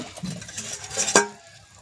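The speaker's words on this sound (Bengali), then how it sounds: "এখানে আমাদের ঝোল ফুটে গেছে, এবার দিয়ে দিলাম মাছগুলো" Hilsa fish pieces are dropped into boiling mustard-paste gravy with turmeric and green chilies, village style: a short burst of bubbling and wet stirring, then a sharp clink of pan or utensil, and a quick fade.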